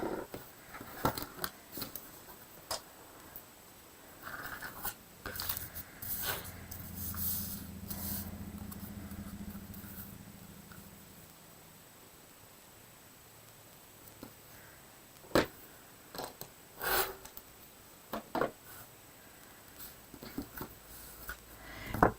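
Soft snipping and scraping sounds of quilting fabric being trimmed, scattered irregular clicks and rustles up close over a quiet background.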